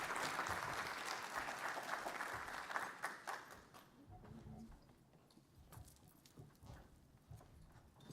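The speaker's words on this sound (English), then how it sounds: "Let's give them a round of applause." A crowd applauds loudly at first, then the clapping thins into scattered, fading claps.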